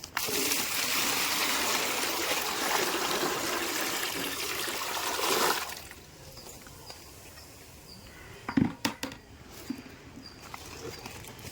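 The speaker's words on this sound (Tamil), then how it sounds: "அதில் பத்து லிட்ரு தண்ணியை கலந்துக்கிறோம்" Ten litres of water pours steadily into a container for several seconds, then stops, followed by a few faint knocks and clatters.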